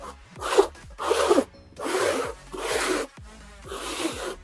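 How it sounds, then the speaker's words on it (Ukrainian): A notched trowel drags adhesive over mesh on a building facade in five rhythmic rasping strokes, each with a scrape and short pause, close by and with no talk. "Ми повністю стягуємо це все гребінкою."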